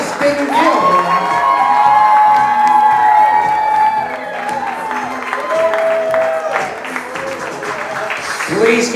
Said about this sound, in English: Please keep your applause going, the new Mr. and Mrs. Preston Gill.